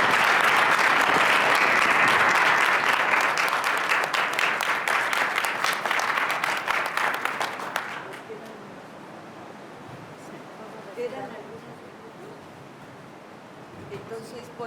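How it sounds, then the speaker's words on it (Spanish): A dense burst of audience applause fills a hall at a literature gathering on indigenous languages, loud and steady for about eight seconds, then thinning to scattered claps and murmuring voices. "un aplauso."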